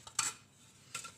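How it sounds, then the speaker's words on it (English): A plate and cutlery are set down for eating cornbread: one bright clink of metal on a dish, a short pause, then a second clatter, close and clear with no voices. "Ah, a plate is being delivered to me."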